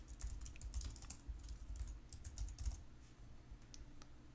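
Fingers tap out a product name on a computer keyboard in a quick, irregular run of soft clicks, close and quiet, slowing toward the end.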